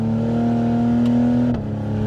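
A Cadillac CT5-V 360-horsepower AWD sedan engine holding a steady droning rev, then briefly dropping in pitch as the transmission shifts up, heard loud and close from the cabin.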